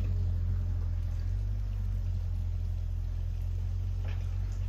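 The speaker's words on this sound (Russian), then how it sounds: "Трактор, вот он. Копает за забором." Tractor digging behind a fence, a constant low engine rumble and drone holding steady throughout, heard from a moderate distance with no talk.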